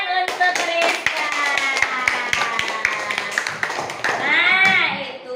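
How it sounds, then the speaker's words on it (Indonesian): Classroom applause breaks out as a group of students claps steadily in quick, even beats close by, while voices talk over the clapping. "Oke, tepuk tangan untuk Rizka."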